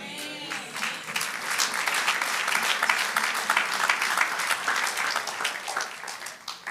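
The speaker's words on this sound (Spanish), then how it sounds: "aplauda después de esto" Congregation applause during a church sermon, many hands clapping in a full, steady patter from a large room, building after a quiet start and holding at moderate loudness.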